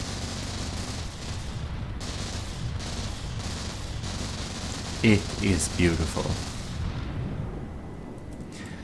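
Max-RPM 500mm advanced cannon in From The Depths firing a rapid string of heavy booming shots over constant rumbling background noise, with a short louder cluster in the middle and someone speaking briefly.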